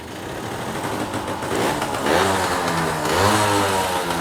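A classic mini motorcycle engine, started with a single kick, runs close and loud with a steady mechanical putter, then revs up twice before settling back.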